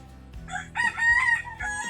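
A rooster crows nearby, a loud, harmonic call that rises and holds, with a second crow starting toward the end.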